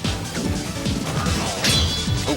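Super Smash Bros match with Wario versus Samus, a smash attack landing among sharp hit impacts, thwacks and swishes over busy game sound effects and music.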